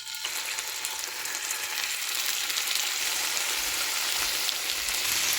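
Marinated fish frying in a hot pan over medium-high flame, a steady dense sizzle and crackle running unbroken and close throughout with no talk.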